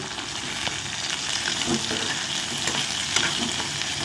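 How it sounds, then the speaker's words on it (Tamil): Chopped onions sizzle and crackle steadily in a hot pan, a constant frying hiss with occasional small pops and stirring sounds. "இதை வந்து நல்லா வதக்க போடுங்க"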